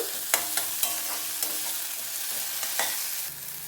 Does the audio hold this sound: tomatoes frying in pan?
yes